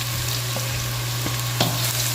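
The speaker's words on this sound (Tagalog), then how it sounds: "gisa lang po tayong luya" Ginger sautéing in a pan, a loud dense continuous sizzle with a low steady hum beneath and a few faint stirring clicks.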